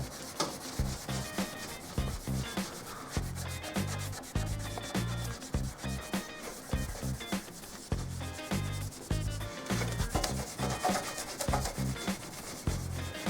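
Rhythmic back-and-forth scrubbing of a cloth working coating compound over painted bodywork on a Toyota Supra, close and steady with repeated firm strokes throughout.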